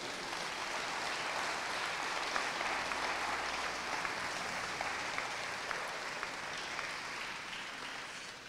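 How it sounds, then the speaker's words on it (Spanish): Steady applause from a church congregation fills the sanctuary, a dense wash of clapping that holds evenly for the whole stretch with no voices over it. "Denle un aplauso a Jesús."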